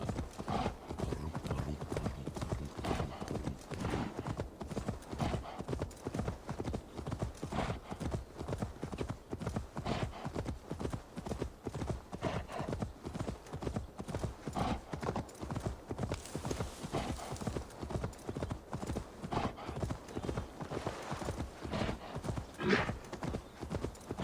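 A mount's hooves clip-clop at a steady walking pace in Assassin's Creed Valhalla, the thuds rhythmic and close for the whole stretch with faint talk now and then.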